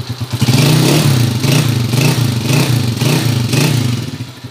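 A Honda TMX155 motorcycle engine runs close by after starting, a loud steady thumping idle with slight rhythmic pulsing and faint mechanical clatter.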